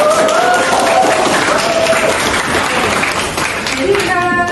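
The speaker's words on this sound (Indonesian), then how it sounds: "Tepuk tangan." Students in a Grade 12 biology classroom clap loudly and continuously during a lesson on enzymes, with some voices underneath the applause.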